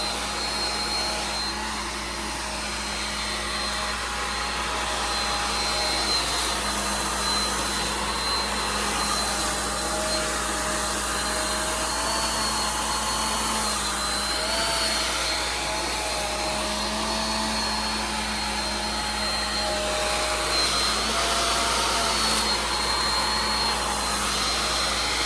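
A hair dryer blows hot air to shrink plastic wrap around a Mother's Day gift basket, a loud, continuous whooshing drone that holds steady throughout with no voices.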